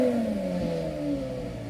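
A collector car engine at the RM Sotheby's Scottsdale auction fires up and revs, its loud, smooth tone sliding downward in pitch as it settles over a couple of seconds.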